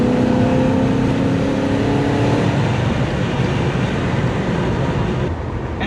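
A 1UZ Zephyr engine run on a dyno under Haltech Elite 2500 tuning roars loudly and steadily at close range, with a humming tone early on and a slight easing near the end.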